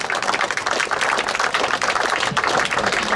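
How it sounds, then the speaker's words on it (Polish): A large audience at a political event in Gdańsk with Aleksandra Dulkiewicz and Rafał Trzaskowski claps loudly and continuously, a dense, close roar of many hands that holds steady throughout with no talking over it. "Wielkie brawa"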